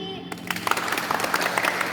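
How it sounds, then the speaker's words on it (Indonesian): Audience applause rings out at a Sekami children's gathering in Pecatu, a burst of many hands clapping that starts after a short pause and continues steadily, with some voices mixed in. "Kita kasih tepuk salut dulu buat Kak Dwi."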